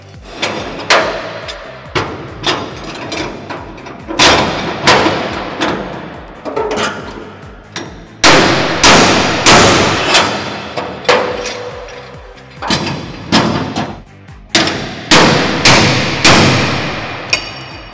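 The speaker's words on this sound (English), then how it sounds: "Two or three good hits with a hammer, and it's set and ready to go." Hammer blows striking an EFCO quick clamp on formwork steel to set it, loud sharp metallic thuds in irregular bursts, close up and with no talk.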